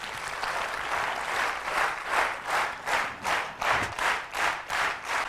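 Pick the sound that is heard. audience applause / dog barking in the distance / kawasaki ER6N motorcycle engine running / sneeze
audience applause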